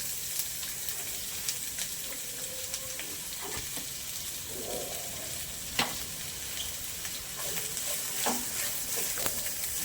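Chopped onions, three medium ones, frying in oil with whole spices for chicken tehari, giving a steady soft sizzle with occasional stirring scrapes and clicks, close by and without any talk.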